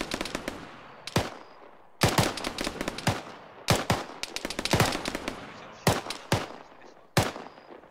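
Bursts of automatic gunfire with tracer rounds in the military shooter Arma 3, loud and close, in repeated sharp volleys with short gaps between them and no talking.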